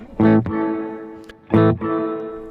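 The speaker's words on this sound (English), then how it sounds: "So here's what the pre-delay sounds like all the way up." Electric guitar played through a Strymon Blue Sky reverb pedal with pre-delay turned fully up: two plucked chords, each ringing on into a long, spacious wash of reverb tail.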